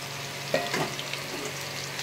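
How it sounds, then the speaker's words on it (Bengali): Fish fries in hot oil in a pan for fish biryani, giving a steady close sizzle with a couple of brief spatula knocks and stirring sounds. No one speaks. "দেখো বন্ধুরা আমার মাছগুলো ভাজা ভাজা হয়ে গেছে।"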